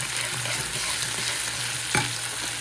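Chillies sizzle steadily in hot tempering oil with mustard seeds, a continuous bright fry with a spoon scraping and stirring through it, one sharper clink near the end.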